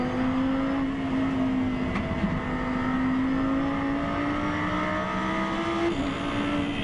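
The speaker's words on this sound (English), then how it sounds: "Cars approaching 258 kilometres an hour, going through Blanchimont up towards the bus stop" GT race cars at the Spa 24 Hours near Blanchimont at about 258 km/h, heard as a steady, sustained engine drone with a slowly shifting pitch, fairly distant and unbroken, with no voices.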